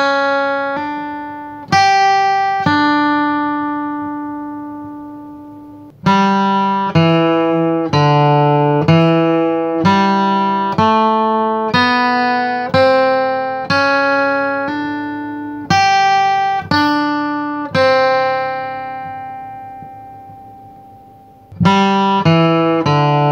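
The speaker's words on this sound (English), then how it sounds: "So starting with the chromatic walk-up, it's going to sound like this." Acoustic guitar playing a bluegrass lick with a chromatic walk-up: crisp, bright picked notes climbing and running in quick succession, some sustained, close and clear with no voices.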